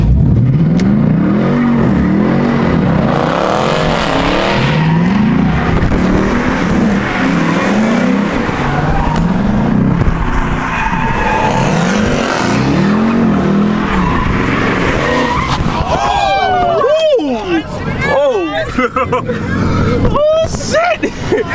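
A car spins and skids on a wet road in the rain, with sustained tire squeal and revving engine throughout, loud and close, while people shout and talk over it.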